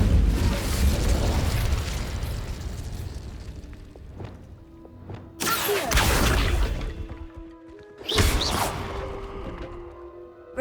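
Incendio fire spell in Hogwarts Legacy: a loud rushing roar fades out, followed by two sharp fiery bursts, each trailing off with crackling decay, and no voices.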